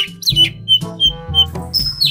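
A large magpie-robin sings loud, close whistled phrases in short bursts over a steady low background hum, with bright rising and falling notes and brief gaps between them.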